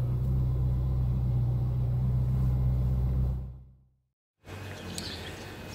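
Peugeot 306 S16 with a six-speed gearbox driving out to park outside, a steady low engine rumble close by that fades away to near silence before faint outdoor ambience returns.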